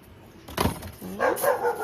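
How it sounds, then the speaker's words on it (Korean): A house dog barks at a visitor in a few short, sharp yaps, moderately close and rising into a whiny, yelping tone, with no voices over it. "우리 집 개 짖는 소리가 너무 크게 나서"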